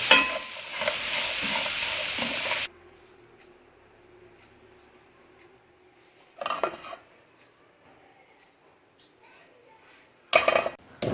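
Yogurt kebab ingredients with chopped tomato sizzle loudly in a frying pan for a couple of seconds, then quiet kitchen sounds follow with short bursts of utensil scraping and stirring.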